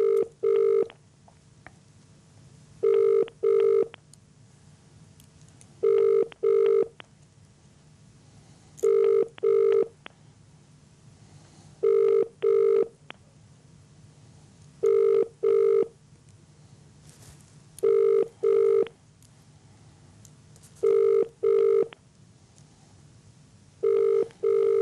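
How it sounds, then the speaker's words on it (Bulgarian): A telephone ringback tone heard while placing a call sounds in regular paired beeps, a double burst every three seconds or so, repeating about eight times over a faint hiss with no talk. "Надявам се Ангел Ангелов, господин Ангелов, да вдигне своя телефон"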